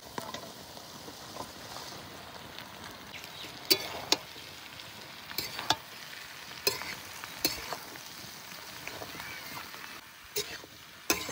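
Potatoes and onion greens fry in oil in a pan, a soft steady sizzle broken by sharp clinks and scrapes of stirring at irregular intervals, close and fairly quiet.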